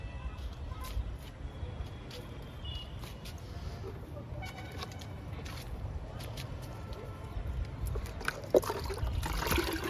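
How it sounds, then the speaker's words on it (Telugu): Liquid fertilizer trickles and pours onto potted adenium plants. The splashing is soft and continuous, set against a low background murmur. "లిక్విడ్ ఇద్దాము ఇంకా బాగా పోస్తుందండి"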